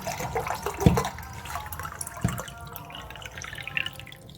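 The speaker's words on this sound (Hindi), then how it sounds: "मैं इसमें 2 कप ठंडा पानी डालूंगी।" Cold water poured into a pan to start Kashmiri pink tea: a steady light trickle with a couple of sharper splashy knocks early on, close by and fairly quiet, with no talking.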